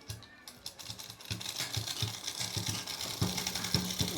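A sewing machine stitches thick, slightly rough suit fabric in short rattling runs that speed up and pause, its rapid needle clatter close and steady.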